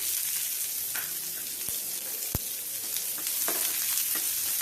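Thinly sliced onion pieces frying in hot oil: a steady, loud, crackling sizzle that fills the whole stretch, broken by a couple of sharp clicks or taps from a utensil against the pan.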